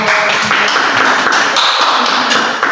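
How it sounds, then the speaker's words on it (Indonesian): A group of students in a classroom gets applause, dense crackling hand claps from a small crowd, loud and continuous for a few seconds before tapering at the end. "kita beri aplaus untuk kelompok"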